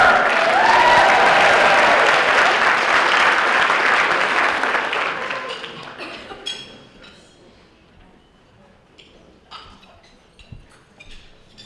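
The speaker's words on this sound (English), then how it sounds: "The cheering goes for Amy and her mother." Loud audience applause with cheering fills a distinguished alumni award ceremony as the award is accepted on a graduate's behalf, then fades after about five seconds into scattered claps and faint room noise.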